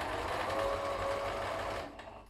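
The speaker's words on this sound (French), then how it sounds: "Et je viens coudre à peu près 1 à 2 cm." A sewing machine stitches bias tape for a washable paper towel in one steady, close whirring run before stopping.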